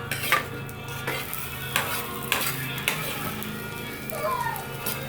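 Breakfast frying in a pan is stirred with a utensil, producing quiet scrapes and clinks against the metal over a soft sizzle, close and intermittent.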